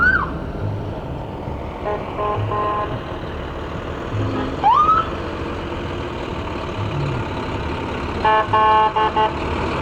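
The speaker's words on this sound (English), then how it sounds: "here's that Grinchy snowman with the Mooers Fire Department truck" A Mooers Fire Department truck rolls through a nighttime Christmas parade of lights over a steady engine rumble, with a short rising siren-like whoop midway and a few bright horn toots near the end.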